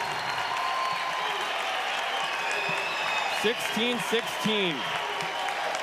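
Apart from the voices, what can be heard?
crowd cheering and applauding at volleyball match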